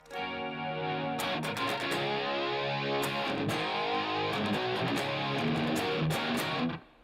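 Electric guitar run through a Helix rack with a Strymon Big Sky reverb pedal plays sustained, rich chords for about seven seconds, loud and washed in lush reverb and chorus-like shimmer, with no talking.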